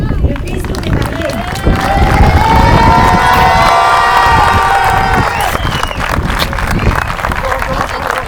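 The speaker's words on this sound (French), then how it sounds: "il est temps d'applaudir avec beaucoup de bruit le bisou des mariés" Wedding guests cheer, whoop and clap loudly for the couple's kiss at an outdoor estate ceremony, a raucous crowd roar swelling in the middle with shouts and high cheering throughout.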